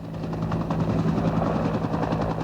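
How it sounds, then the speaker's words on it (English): A medevac helicopter flies steadily, its rotor thudding in a fast, even beat under a low engine drone, loud and close with no voices over it. "The medevac helicopters brought men in minutes after they were hit."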